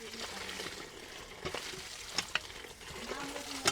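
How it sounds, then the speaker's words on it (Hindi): Onions sizzle in a pan for a home-cooked vegetable dish, a steady close frying hiss with stirring clinks and scrapes. "मैं सब्जी बना रही हूँ, तो प्याज ना भुन गई है"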